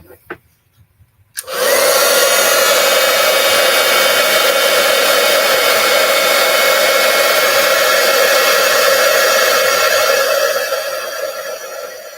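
A heat tool blows hot air over a card-making piece, switching on after a few faint clicks and running as a loud, steady whirring rush close by.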